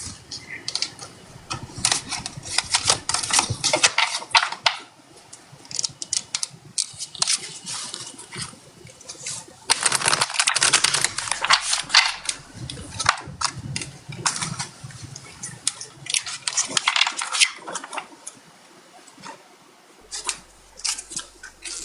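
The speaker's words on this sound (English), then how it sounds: "Let me make sure I get all these shuffled up before" Tarot cards being shuffled by hand, a run of quick papery riffles and rustles that come and go in bursts of varying loudness, with brief pauses between handfuls.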